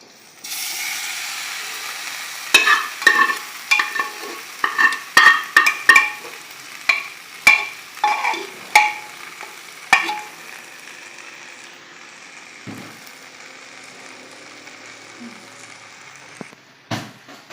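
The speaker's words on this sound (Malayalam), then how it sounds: "സ്റ്റവ് താഴ്ത്തി വെച്ചിട്ട് നമ്മൾ ഇളക്കി കൊടുക്കുകയാണ്." A spoon stirs spices in a pan over a low stove while preparing beef pepper roast, giving a series of sharp scraping and clinking strokes in an irregular rhythm, close and clear, with a faint sizzle beneath before the strokes fade out.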